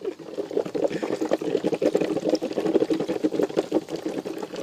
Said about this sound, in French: Ça bouille là-dedans, man.